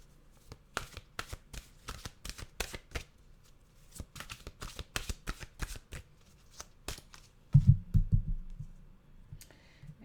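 A deck of mantra cards is shuffled close up in a quick run of crisp riffling clicks, then a brief soft thump as the cards settle. The sound is quiet and there is no talking.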